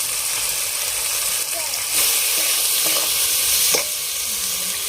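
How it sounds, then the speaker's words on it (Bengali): Spice paste with chopped tomato and chana masala frying and being stirred in a pan, a steady close sizzle with scraping stir strokes, no talk over it. "এই মশলাটা ভালো করে কষিয়ে নেব।"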